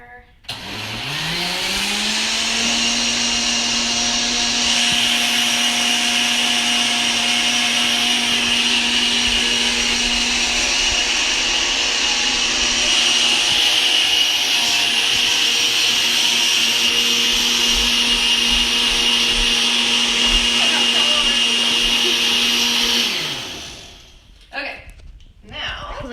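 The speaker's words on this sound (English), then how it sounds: "And we're going to blend a little bit more." A blender whirs loud and steady through a green smoothie, spinning up quickly and holding a constant high whine for over twenty seconds before stopping.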